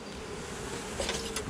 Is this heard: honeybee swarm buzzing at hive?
yes